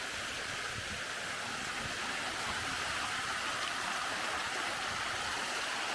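Stream water runs steadily off the hillside along a walking path on Scotland's NC500 west coast, a continuous broadband rush close by with no talk.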